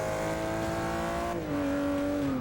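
Race car engine in Forza 6 holding a loud, steady high-revving drone, its pitch dropping then climbing again midway as the car shifts and pulls on toward passing a slower car.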